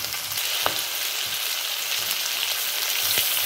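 Chicken curry with tomatoes fries in a pan with a dense, steady sizzle, close and continuous, broken by a few faint stirring clicks.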